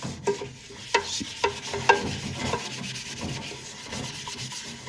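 A brush scrubs a burnt stainless steel pot with rapid, rasping strokes, close and fairly loud, marked by a few sharper knocks of the brush against the metal.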